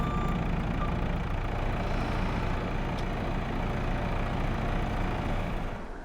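A vehicle engine drones steadily in a farming video game, a constant mid-pitched rumble that carries on unbroken, then eases slightly at the end, with no talking.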